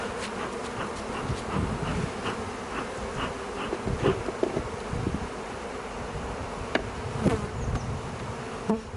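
A dense, steady hum of many honeybees buzzing close by at an open hive of a weak colony, with individual bees droning past now and then; no voices.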